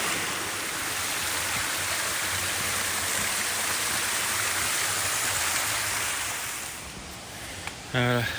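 Stream flowing through a small ravine on a mountain trail on Réunion, a steady, loud rushing wash of water close by, with a brief voice near the end.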